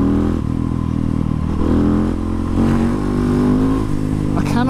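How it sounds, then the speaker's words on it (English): A KTM 690 SMCR single-cylinder motorcycle engine runs loud and close, a steady throbbing idle with a few sharp revs and some mechanical clatter, and no voices over it. "I cannot think of a more fun motorcycle than this."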